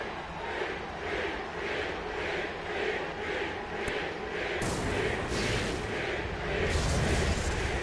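A video-game wrestling arena crowd in WWE 2K24 roars in a steady, dense wash of cheering, swelling louder partway through, with no speech over it.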